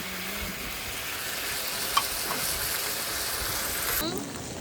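Chop steak sizzles loudly in a pan while being stir-fried at a campsite, a dense, steady hiss with a brief clink near the middle and a change in tone near the end.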